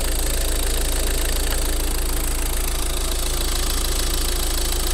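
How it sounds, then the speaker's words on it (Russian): A Ford Focus engine idles with a slipping belt tensioner roller, giving a steady, loud, continuous mechanical drone with a harsh whining edge. The drone runs unbroken for the whole clip, with no talk over it. "Ролик натяжной ремня буксует."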